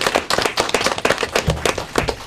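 Clapping from a small audience at an elementary school academic competition, close, uneven individual hand claps in a quick irregular patter.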